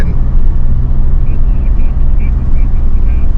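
Mitsubishi Xpander Cross Gen2 pulling away under about 70% throttle, a steady low engine drone with road rumble throughout, loud and close, with a faint higher whine riding on top.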